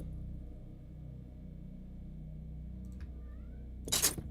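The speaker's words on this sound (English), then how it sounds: "Someone's meowing at me." A cat meows at a gamer, a faint mew or two over low room rumble, followed by a sharper, louder yowl near the end.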